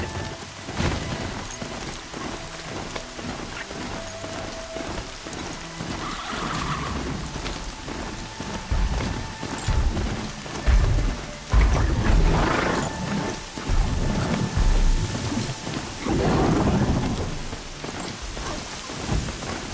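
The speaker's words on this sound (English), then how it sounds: "Been waiting for rain." Steady rain falls in Horizon Zero Dawn, with deep rolls of thunder breaking through several times, loudest in the second half, and no talk over the storm.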